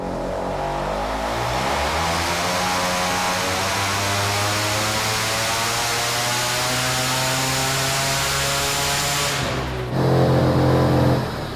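A turbocharged single-rotor Mazda Miata pulling on a dyno in second gear, one long loud rising engine drone climbing steadily in pitch for about nine seconds before cutting off to a lower burbling idle.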